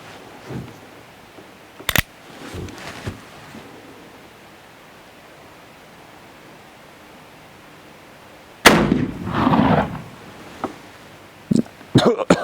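Black powder revolver shots from a 44-40 and a 45 Colt outdoors: a few sharp, loud single reports spaced apart, one followed by a longer rumbling blast, with quiet stretches between.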